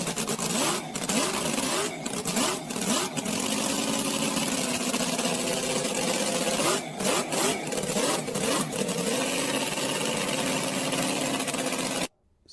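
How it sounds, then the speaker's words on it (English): A car engine in good condition purrs steadily at idle, a continuous mid-pitched hum running loud and even for about twelve seconds before cutting off abruptly at the end. "Right, that's purr. Or maybe a car engine in good conditions."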